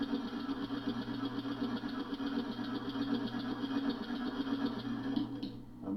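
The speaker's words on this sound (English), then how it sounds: "110 psi, and it's pretty responsive in starting and stopping." Oval six-cylinder compressed air engine prototype running steadily on about 110 psi of shop air, a close, continuous mechanical chatter with rapid rhythmic pulsing that holds for several seconds before tapering off near the end.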